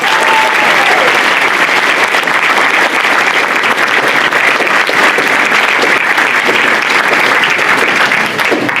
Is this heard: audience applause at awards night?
yes